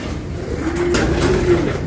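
Racing pigeons at a loft cooing, a close, low, rolling coo rising and falling over about a second against steady outdoor background noise.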